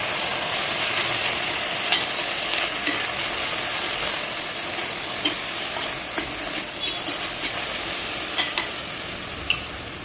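Grated beetroot with onion, mint, peas and soya frying in a pan, giving a steady close sizzle and hiss with occasional scraping clicks of stirring.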